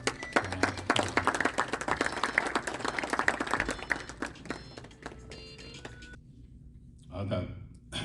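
Audience applause at an Urdu literary gathering paying tribute to Habib Jalib, a dense wash of clapping from many hands that fades out, followed by a brief voice.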